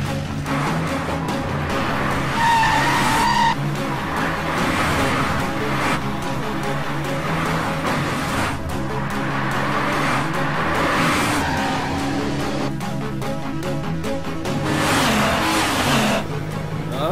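A car speeds in and its tires skid and squeal through a loud, continuous engine roar with revving surges, part of a Hindi-dubbed South Indian action film scene.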